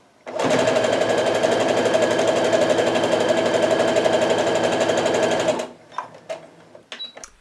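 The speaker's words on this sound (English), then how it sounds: "when I get to that seam, I'm going to stop with my needle down in the seam allowance" A sewing machine runs steadily for about five seconds, stitching a seam on a quilt block, then stops abruptly. A few small clicks and handling sounds follow in the quiet.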